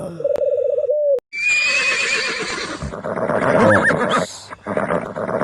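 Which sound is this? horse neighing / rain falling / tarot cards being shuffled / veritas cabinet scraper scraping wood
horse neighing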